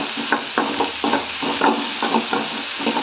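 Chana dal and onion being sautéed in a pan for millet dosa, with a spoon stirring in repeated scraping strokes over a steady sizzle, close and moderately loud.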